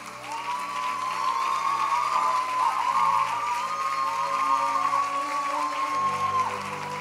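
Steady applause from an audience at an award ceremony, where a father applauds his emotional daughter, Mia Love, as she receives a special trophy; the clapping is continuous and fairly close, with a few faint voices in the crowd.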